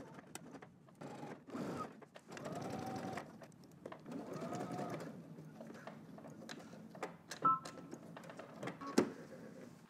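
Sewing machine basting a shirt collar to a neckline, running in short, fairly quiet bursts of stitching broken by pauses, with clicks and handling noises between.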